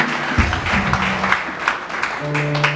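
Congregation applauding during a Good Friday church service, lively rhythmic clapping with tonal murmurs and voices mixed in, steady throughout and fairly close.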